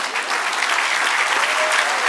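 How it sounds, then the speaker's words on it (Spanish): A church congregation applauds during a Spanish-language prophetic service, dense steady clapping from a crowd filling the room at close range for a couple of seconds. "Dale un aplauso al Señor."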